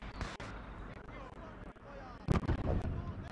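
Mortar fire in the Gates of Hell war game, a Finnish–Soviet battle scene: a sharp close blast lands late in the clip, with heavy booming impacts amid ongoing rumbling combat noise, and voices murmur beneath.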